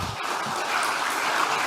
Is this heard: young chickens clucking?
no